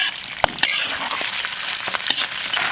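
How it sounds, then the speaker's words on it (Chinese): Cured pork hits hot oil in a wok with scallion, ginger, garlic and dried chilies, giving a loud, steady sizzle and frying crackle, with scraping stir strokes and a few sharp clanks of the spatula. "炒香以后下入腌猪肉"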